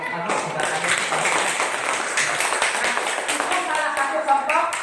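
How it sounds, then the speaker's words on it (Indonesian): Pupils in a classroom clap together in a lively, uneven patter of many hands, loud and close, with children's voices mixed in throughout. "Bagus, tepuk tangan."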